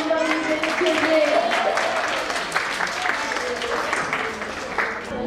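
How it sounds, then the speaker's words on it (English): Parents applauding children at a school sports and annual day, a steady wash of clapping from a crowd that holds throughout, with voices mixed in. "Yes, parents, please clap your hands on these children."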